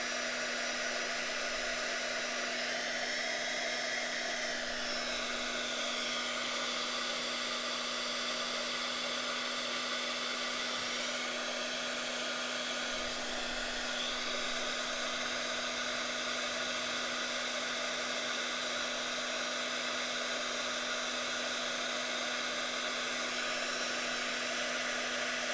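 Heat tool blowing hot air onto a rock to melt crayons, a steady whooshing roar with a constant electric hum, near and unbroken, its pitch shifting slightly as the tool moves, with no talk.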